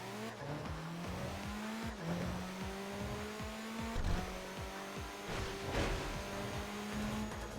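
A Copen raced in the video game Tokyo Xtreme Racer, its engine note climbing repeatedly through gear changes with sawtooth-like revving, loud and continuous, with occasional tire squeal.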